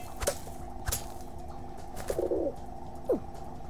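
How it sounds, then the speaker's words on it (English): Pigeon coos from the Fall Guys video game sound in a few short, separate calls over faint game background and occasional soft clicks. "It sounds like it's a pigeon."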